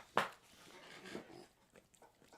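Dog in a live stream room, a short sharp snort or bark-like burst near the start followed by faint sniffing, panting and snuffling sounds, close but quiet.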